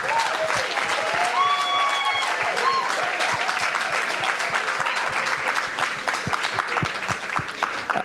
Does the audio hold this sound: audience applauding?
yes